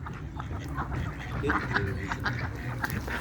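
Ducks and geese at a lake quack repeatedly nearby in short, choppy calls, mixed with low background noise.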